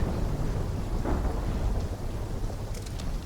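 A thunderstorm in Call of Duty Black Ops 3 keeps up a steady wash of rain and wind, with a low rumble of thunder swelling briefly partway through.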